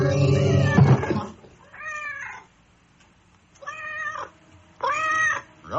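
A cat named Roger meows three times in a radio drama, drawn-out harmonic cries spaced a second or two apart, close and clear, following a loud opening burst of voices or noise.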